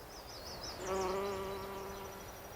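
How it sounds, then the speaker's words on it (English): A bee laden with St. John's wort pollen buzzes close by among flowers, its droning hum swelling for about a second and a half before fading away. "This bee right here is just loaded with pollen"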